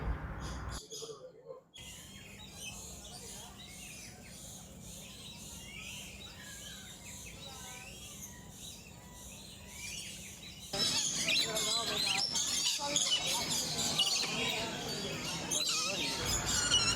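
Birds chirp and call from the open trees of a large bird park in Singapore, a soft scatter of tweets that becomes busier and louder toward the end, with faint ambient noise beneath.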